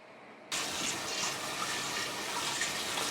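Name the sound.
washing yellow split peas with water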